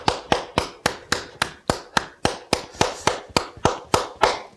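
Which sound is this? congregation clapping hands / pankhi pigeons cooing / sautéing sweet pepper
congregation clapping hands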